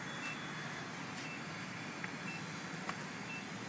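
A gas station pump's card reader gives a couple of short, high electronic beeps over a steady background hum, with passing road traffic faintly behind.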